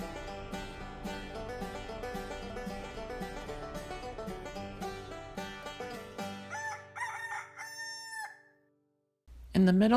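Chickens and a rooster on a farm, crowing and clucking heard faintly under a bed of music that cuts off near the end before a louder crow.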